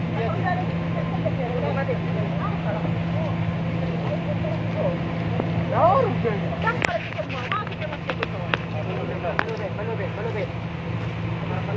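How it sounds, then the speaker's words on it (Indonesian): A steady low drone of a running engine at a crowded outdoor protest, continuous beneath overlapping talk and shouting voices. "Matikan dulu, aku bilang matikan dulu itu mesin."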